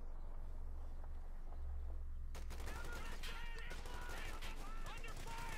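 Rapid bursts of machine gun fire and scattered gunshots crackle through a Company of Heroes 2 battle, starting quietly and turning dense and loud partway through, layered over low rumbling ambience.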